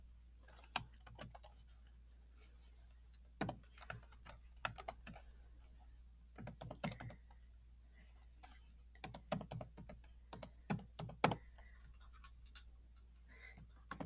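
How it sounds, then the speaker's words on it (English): Keys clatter on a computer keyboard as an activation code is entered, coming in short irregular bursts of close, crisp clicks separated by pauses over a quiet background. "You're going to type that code in to the activation code spot."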